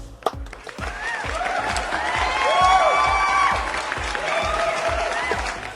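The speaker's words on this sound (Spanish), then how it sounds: "Aplausos, por favor." A church congregation claps and cheers during a 42nd anniversary celebration, with loud sustained applause, rhythmic clapping beats and high whoops and shouts rising over the crowd for several seconds.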